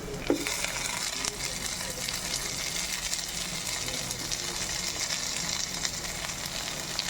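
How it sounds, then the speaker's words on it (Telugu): Tomatoes frying in a pan with nutmeg and mace for a rice dish, a steady broadband sizzle and crackle running throughout at close range, with a faint clink near the start and no talking. "సో ఇలా లైట్ కలర్ అయ్యాక టొమాటోస్ వేసుకున్నాను"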